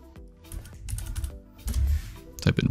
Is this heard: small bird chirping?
no